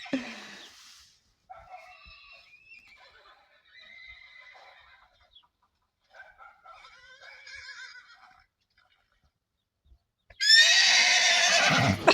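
A horse neighs loudly nearby, then softer snorts and whinnying calls follow, ending with another strong, high neigh.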